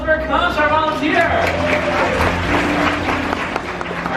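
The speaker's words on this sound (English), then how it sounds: "Round of applause for Akansh, our volunteer." Audience applause for a volunteer at a Walt Disney World bird show, a sustained burst of crowd clapping lasting several seconds with voices mixed in.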